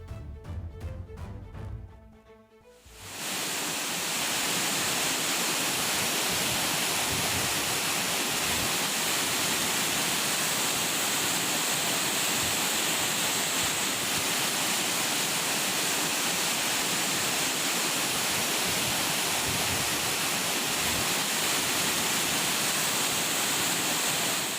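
Courtallam main waterfall in Tenkasi district running in flood, a loud, steady roar of heavy falling water that fills the scene after a brief quieter opening, with no voices.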